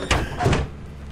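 A door in the video game Lethal Company opens with a short, close thud and sliding scrape lasting under a second, with no talking.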